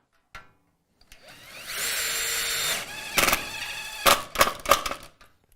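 A Festool TID-18 impact driver set to T mode drives a screw directly into concrete. A high-speed whir runs close and loud, then gives way to several short bursts of rapid hammering as the screw seats.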